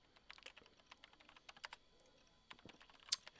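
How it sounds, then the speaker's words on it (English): Keyboard typing in the video game Chaos;Head Noah, with quick, irregular clacks in short bursts, a brief pause, then a few more keystrokes, close and fairly quiet. "the only sound present in the room was the distinct clacking of a keyboard."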